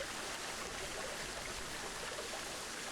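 Water flowing in the Planet Zoo video game, a steady, faint stream-like wash that stays even and continuous, with no voices.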